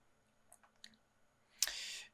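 A computer mouse clicks twice, faint and close, while a downloaded package is extracted, followed by a brief brighter clicking rustle at the end.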